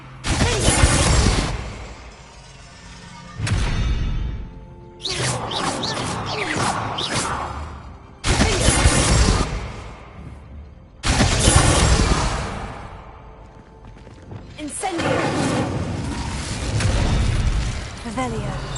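Confringo blasting spell explosions in Hogwarts Legacy, several loud bursts in a row, each a sharp hit trailing into crackling debris, separated by brief quieter gaps, with a voice talking intermittently.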